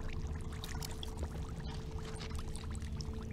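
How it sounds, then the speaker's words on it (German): Thick liquid in a cave in the video game The Witcher 3 bubbles and gurgles continuously at low volume, with soft wet pops over a steady murky wash. "Was blubbert denn hier so eklig?"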